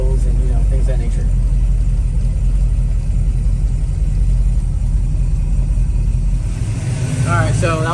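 A car engine with suspected noisy lifters and backfires runs during a test drive as a loud, steady low rumble throughout, with brief voices and faint higher tones near the end.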